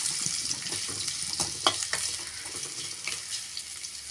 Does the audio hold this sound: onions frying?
yes